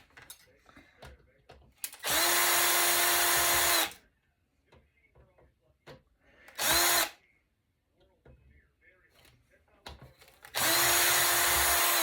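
A power tool whirs in three loud bursts while removing screws from audio equipment during a teardown. The first burst is long, the second short and the third long, separated by quiet handling noises, with no talk.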